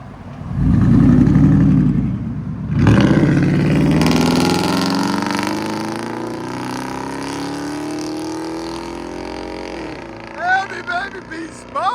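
A 2006 Ram 1500 with a 5.7L HEMI V8 and true dual straight pipes fires up loud and close, then revs and settles into a rumbling idle that climbs slowly, with brief extra blips at the end.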